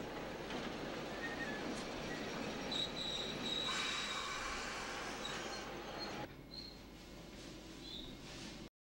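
Quiet, continuous rumble of a train on the main line between Wellington and Masterton, New Zealand, with faint high wheel squeals now and then, steady throughout and heard from inside.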